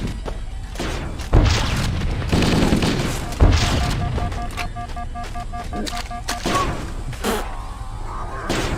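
Sniper shots and bursts of gunfire from the Halo 3 video game crack and boom in scattered bursts at close range, with two heavier impacts standing out among the continuous chaotic game sounds.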